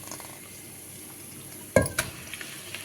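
Pork belly with bone dropped into a hot pot of tomato sauce gives a sudden loud sizzling burst, followed by a few softer crackles over a quiet kitchen background.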